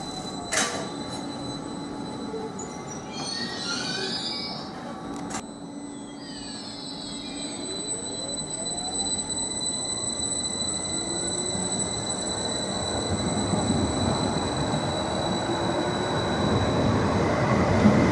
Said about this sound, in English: we're on the 10:28 service to Cambridge, now arriving to platform 1